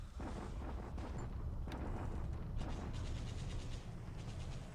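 Artillery fire in a World War II strategy video game, a dense, continuous rumbling barrage of low booms with sharper bursts layered through it, steady and moderately loud throughout.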